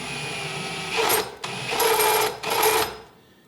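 A drill with a fluted bit deburring a drilled hole in a motorcycle rear fender on a Honda Rebel 250, running in three short bursts with brief pauses between them, close and moderately loud.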